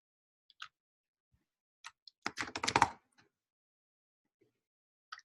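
Computer keyboard typing in a quiet room: a few isolated key taps, then a quick burst of rapid keystrokes, then a few more scattered taps, fairly close and moderately soft.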